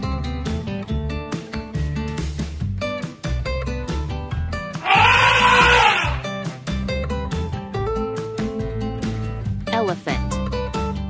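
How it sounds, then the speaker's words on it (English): An elephant lets out a single loud, harsh trumpeting blast lasting about a second, rising clearly above steady background music. "Elephant."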